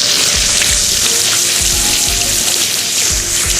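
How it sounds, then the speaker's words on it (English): Loud, continuous sizzling of a veggie burger frying in hot oil, a dense crackling hiss with no voices. "whether you're frying dumplings or you're doing the burger, it's good to put them in the coal oil"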